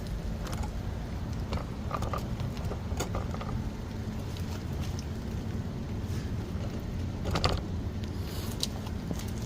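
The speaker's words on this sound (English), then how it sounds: "So we'll just remove the banjo bolt here" A 12mm banjo bolt being loosened from a Ford F-150 front brake caliper, scattered faint metallic clicks and ratcheting taps over a quiet background.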